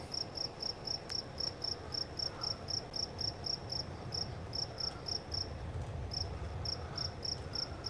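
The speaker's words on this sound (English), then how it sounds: "He's got crickets." Crickets chirp at night in a steady, evenly spaced pulse that runs through the whole stretch over a low background rumble.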